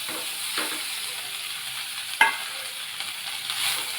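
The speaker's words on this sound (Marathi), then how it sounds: "परतून घेऊया" Cooked rice sautéed in a pan for curd rice, with a steady soft sizzle and scraping stirs and one sharp clink of the spatula midway, heard alone and close.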